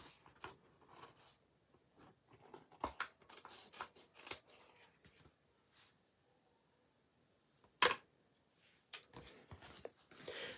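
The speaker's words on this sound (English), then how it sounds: "And then I'm going to cut out again this little piece." Scissors snip out a small piece of card for a handmade Christmas card, giving a series of crisp, close, irregular cutting clicks with quiet pauses between them.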